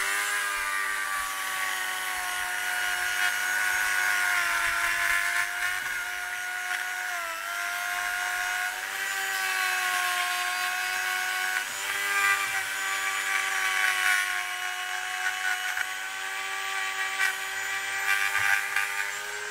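A power tool fitted with a wire brush scrubbing a 16-inch Mazda Miata wheel rim, a steady high whirring grind with slight wavers in pitch as pressure shifts, close and continuous throughout.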